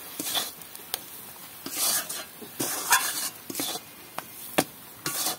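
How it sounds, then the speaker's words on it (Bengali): A spoon scrapes and stirs mashed lentil bharta as raw mustard oil is worked in, producing irregular close scraping strokes and soft clinks against the pan, with quiet gaps between. "এবার তেলটাকে ভালো করে সব জায়গায় আমি এইভাবে মিশিয়ে নেব।"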